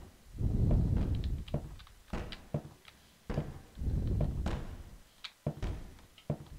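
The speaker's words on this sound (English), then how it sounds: "Those doors banging down there." Doors bang somewhere in a dark horror video game set in a mental house, heavy muffled thuds spaced irregularly with sharper knocks and taps between them.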